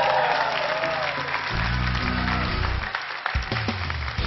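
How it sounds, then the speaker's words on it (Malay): Audience applause greets a judge on a televised singing-competition concert stage, steady clapping and crowd noise blending with music and a host's voice over the top. "tepukan untuk Azmi."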